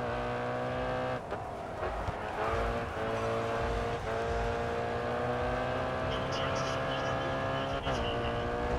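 Race cars in the racing video game GRID Autosport, including a Mercedes C63 AMG, drifting with a steady, loud engine drone and shifting revs and occasional tire noise, while someone talks over it.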